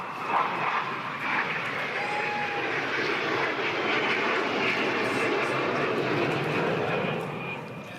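An F-18 fighter jet passes overhead at a beach volleyball event in Virginia Beach, a loud, steady broadband roar filling the whole stretch and swelling slightly before easing at the end.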